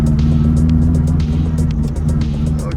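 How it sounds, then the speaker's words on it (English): A classic British car's engine idles roughly and sputters as it is given a little gas, a steady loud low drone close to the microphone with faint irregular knocks and no talking. "my tiny little British icon runs perfectly fine until you give it a tiny bit of gas,"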